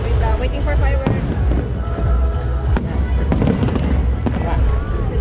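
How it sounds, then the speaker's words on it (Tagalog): Fireworks going off in the Philippines, with dense, continuous crackling and sharp bursts that repeat loudly throughout. Voices and talk can be heard mixed in with the blasts. "Waiting for fireworks."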